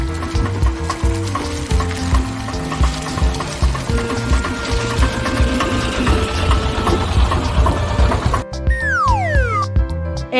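An auto rickshaw engine gives a steady, rattling buzz for several seconds under simple background music, then cuts to a sweeping whoosh effect near the end.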